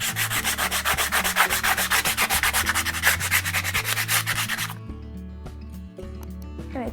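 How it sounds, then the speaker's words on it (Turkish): Rapid, steady back-and-forth rasping of sandpaper by hand on freshly cut wood edges for several seconds, then it stops, leaving quiet room noise. "Kestiğimiz yerlere hızlı bir zımpara yapacağım."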